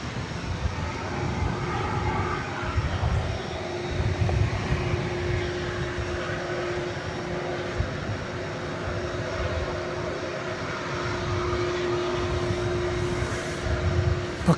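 Aircraft engines of a McDonnell Douglas MD-11 rumble steadily at DFW Airport at night, a continuous low drone with a faint sustained whine holding throughout, no voices.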